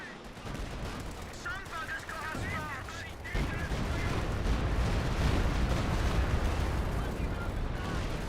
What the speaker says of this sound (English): Got some artillery running on in there